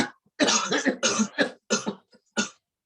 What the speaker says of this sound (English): Next, you breathe in and cough loudly for 3 to 4 times.